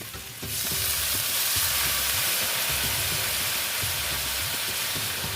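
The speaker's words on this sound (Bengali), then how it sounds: "এখন আমি এখানে জল দিয়ে দিচ্ছি" Water is poured into a hot pan of frying pumpkin and potato, setting off a sudden loud sizzling hiss that stays strong and steady for several seconds, close up and without talk.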